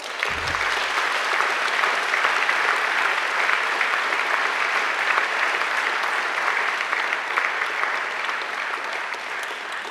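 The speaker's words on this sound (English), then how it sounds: "And now I want you to give them a mighty round of applause." Graduates at a graduation ceremony give their families and friends a long, steady round of applause, a broad, even wash of many clapping hands filling the hall without pause.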